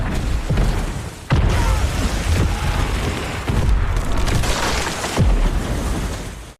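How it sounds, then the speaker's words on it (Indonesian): A bomb detonates on a bridge in a Chinese war film about soldiers fighting American forces, a sustained loud rumbling roar with sharp blasts and debris crashes layered through the whole stretch, no voices. "kemudian bom yang ada di sana pun meledak"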